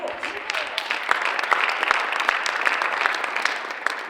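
Audience applause fills a school community event hall, a dense, steady wash of many hands clapping with a few sharper claps and voices mixed in throughout.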